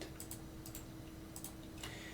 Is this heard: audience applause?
no